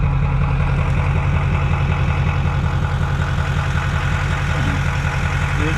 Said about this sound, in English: Will a GoPro 6 be able to take being run over by a F450 Super Duty on semi wheels?